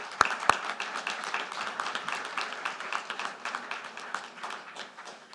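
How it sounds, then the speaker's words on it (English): Audience at an HOA annual meeting applauding, a steady dense patter of many hands clapping at moderate distance, with a couple of sharp nearby claps at the start, continuing evenly throughout. "Round of applause for Bruce Berger"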